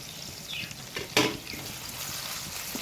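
Bay leaf, cinnamon, cloves, fennel and poppy seeds fry in hot oil for a spinach chicken green masala, giving a steady soft sizzle with a brief louder crackle partway through and no talking.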